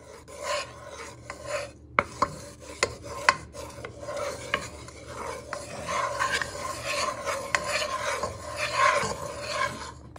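Pork frying in a hot pan for a chilli pork casserole, with a wooden spoon scraping and stirring against the pan; steady sizzle with sharp knocks and rasping strokes, close and fairly quiet, no talk.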